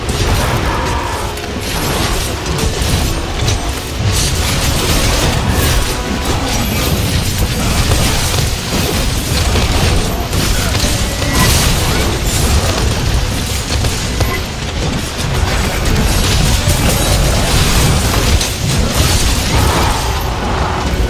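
Slinger Thorn ammo bursting in Monster Hunter World: Iceborne during a monster fight, a loud, dense stretch of overlapping booms, pops and clanking mechanical clatter that runs continuously with no talk.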